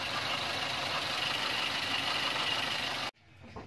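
A Toyota Avanza engine idling roughly with a misfire from a faulty ignition coil, a steady close engine drone that stops abruptly near the end, with no talking.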